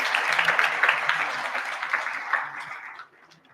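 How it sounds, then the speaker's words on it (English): An audience at a radio leadership session applauds to welcome the acting COO of the SABC, steady clapping for about three seconds that then trails off into quiet. "A round of applause, please."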